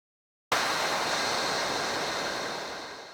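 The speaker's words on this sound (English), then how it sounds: "a white noise crash and reverbed synth effect placed on the downbeat" A loud burst of white noise crashes in suddenly and slowly decays with a long, washy reverb tail, a bright synth shimmer sustained within it.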